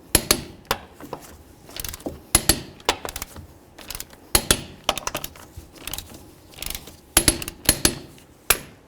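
A torque wrench tightening wheel lug nuts to 100 foot-pounds on a 1994-2004 Chevy S-10, giving sharp irregular metallic clicks and ratcheting snaps, close and loud, with quiet gaps between bursts.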